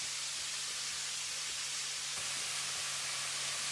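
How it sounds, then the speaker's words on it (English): Moroccan kefta tagine sizzling in a pan, meatballs frying with a steady broad hiss and crackle, soft and continuous throughout with no talking. "you're just listening to the sound of sizzling food for a couple of seconds"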